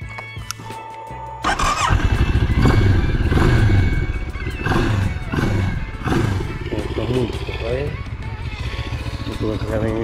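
A Moto Morini X-Cape 650 motorcycle engine idles, then is revved repeatedly in loud, close surging bursts over a steady rumbling idle, with a brief sound before the engine catches.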